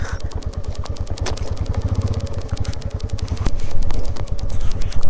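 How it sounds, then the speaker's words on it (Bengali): A motorcycle engine braking downhill on a mountain road near Sandakphu, clutch released, runs with a rapid, steady thumping pulse, loud and close, rising slightly in intensity toward the end. "ক্লাচ না ধরে নামছি একদম যে ফলে ইঞ্জিন ব্রেকে"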